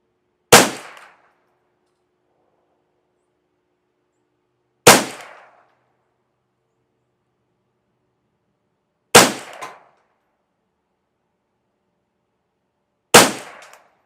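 Four suppressed shots from a semi-automatic Ruger 10/22 Custom Shop Competition rifle fitted with a TAC 22 suppressor, each a sharp crack with a short tail, spaced about four seconds apart in otherwise quiet surroundings.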